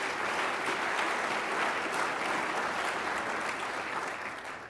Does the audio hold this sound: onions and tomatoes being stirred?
no